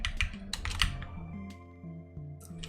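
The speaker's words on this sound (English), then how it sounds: "That was a lot of typing." Quick, close clacking of keys typed on a computer keyboard in a short flurry, with a low steady hum running underneath.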